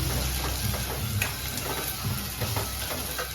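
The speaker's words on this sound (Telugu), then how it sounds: "ఇవి కూడా నూనెలో వేగాలండి" Peeled potato pieces fry in hot oil with onions and green chillies, giving a dense, steady sizzle with soft stirring scrapes throughout and no voices.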